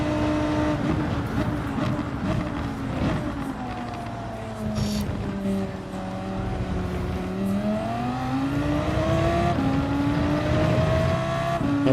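A race car engine in Gran Turismo 7 howls through rising and falling revs as the throttle is worked around a track, with gear changes and the pitch sweeping up and down, loud and continuous without talk.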